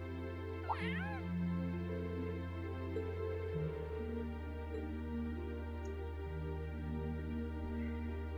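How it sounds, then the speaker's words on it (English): Cat meows in the video game Trails of Cold Steel: a short, faint meow rises early over a steady, droning background of game music, with nothing else standing out. "let's go check out this cat."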